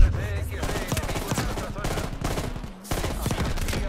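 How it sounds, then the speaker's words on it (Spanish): Rapid bursts of automatic gunfire in Call of Duty Black Ops Cold War, loud and close, stopping briefly once and then resuming. "Ese tío está disparando."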